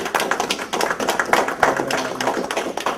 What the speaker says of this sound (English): let's give Dean Blackman a round of applause